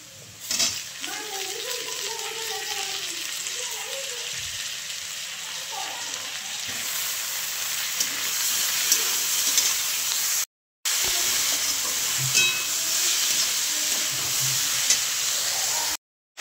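Tomatoes added to onions frying in a pan grow into a loud, steady sizzle and hiss that swells and keeps going, close by, with a voice heard talking early on.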